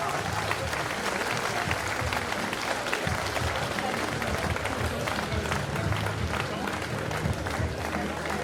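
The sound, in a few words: audience applauding the two savate boxers after the fight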